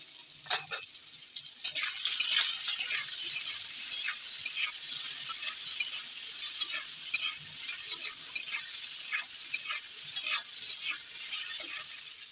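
Potatoes and papad frying in oil with turmeric and salt, stirred in the pan, giving a continuous close sizzle broken by frequent scraping and clattering strokes of a spoon against the vessel.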